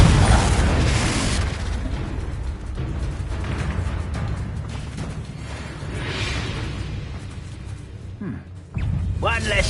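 The Confringo blasting spell explodes in Hogwarts Legacy with a loud, heavy boom up front, then rumbling debris and mechanical clatter, and a second sharp burst near the end.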